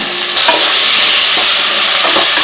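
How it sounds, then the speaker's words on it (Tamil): Onions and tomatoes sauté in a pan for a kurma, giving a steady loud sizzle with a stirring scrape or two, close and alone. "வெங்காயம் வந்து நல்லா பாதி அளவுக்கு வதங்கிடுச்சுங்க இப்போ வந்து நம்ம கட் பண்ணி வச்சுக்கிற தக்காளி சேர்த்துக்கலாம்"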